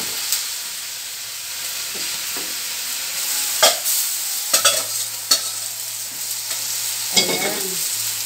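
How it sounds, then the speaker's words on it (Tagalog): Bihon rice noodles stir-fried with vegetables in a hot pan, a steady loud sizzle with occasional scraping and clacking of the utensil as the noodles are tossed, no talking. "Lagay na po natin yung bihon"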